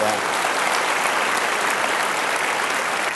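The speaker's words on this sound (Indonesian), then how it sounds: "Kita berikan tepuk tangan untuk museum dong." An audience applauds for a museum during a talk on museums and tourism, loud dense clapping that holds steady throughout.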